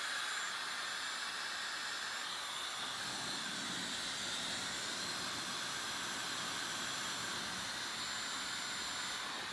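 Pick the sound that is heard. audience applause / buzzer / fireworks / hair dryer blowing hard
hair dryer blowing hard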